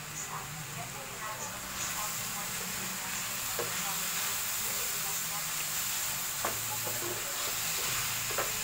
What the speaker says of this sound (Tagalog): Takpan natin yan para talagang maluto yung garlic.